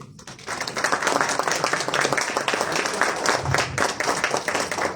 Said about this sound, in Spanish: para quien pido un aplauso